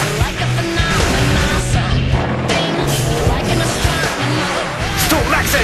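A Cadillac ATS drives hard down a rocky road, its loud engine roar running continuously with repeated tire squeals and skidding close by.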